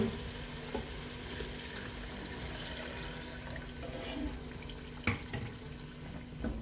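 Water poured into a pressure cooker over fried dal masala in ghee, a soft steady splashing trickle with a faint sizzle, close and fairly quiet, with a couple of light clinks near the end.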